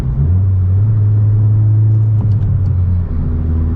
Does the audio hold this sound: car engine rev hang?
yes